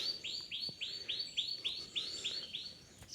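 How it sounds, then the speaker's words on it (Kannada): Small forest birds near a hidden waterfall and lake outside Dharwad give a rapid series of about ten high chirps in a quick even rhythm, fairly faint against quiet outdoor background, with no voices. "ನಿಮ್ಗೆ ಸೌಂಡ್ ಕೇಳಿಸ್ತಿರ್ಬೋದು, ಕಾಡಿನಾಗಿಂದ ಪಕ್ಷಿದೆ."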